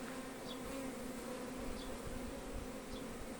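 A bee buzzes close up on a beehive lid, a steady droning hum that holds unbroken for the whole moment over quiet outdoor background.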